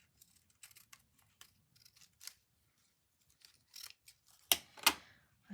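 Scissors trim paper in short snips, faint at first and spaced out, then two louder, sharper cuts near the end against near silence, close up and with no talking.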